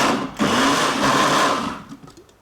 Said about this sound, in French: je vais mixer l'oignon avec 2 échalotes.